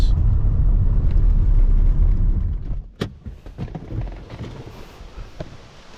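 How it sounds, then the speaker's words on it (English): A car rolls along a long dirt road near St. Croix State Park, Minnesota, with a heavy low rumble from inside the cabin that eases off, followed by scattered knocks and rattles, and no one speaks. "Still driving down the dirt road forever."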